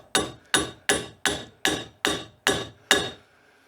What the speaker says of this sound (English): So I'll just give this a little tappy tap tap.